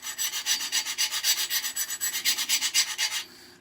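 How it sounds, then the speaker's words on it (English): A shoe heel set at an angle is rubbed against an abrasive surface while rocking, a close rhythmic rasping with about a dozen even strokes that stops near the end. "then you rub it while rocking"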